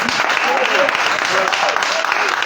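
A church congregation claps together in a dense, steady patter of applause, with voices talking and calling out over it throughout.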